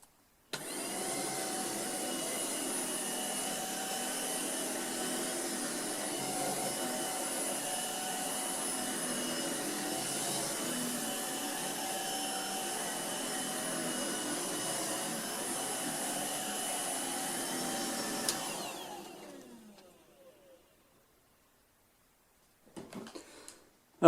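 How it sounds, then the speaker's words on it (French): A Tineco Pure One S11 cordless vacuum cleaner whines steadily with a high motor hum for about eighteen seconds, then winds down to silence, followed by a few faint handling clicks. "Vous augmenterez la puissance d'aspiration quand vous aurez des gros débris"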